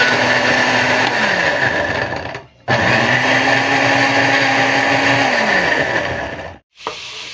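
A kitchen blender grinds garlic and ginger into paste with a loud, steady motor whine in two long runs separated by a brief stop, the pitch sagging as the blades load up.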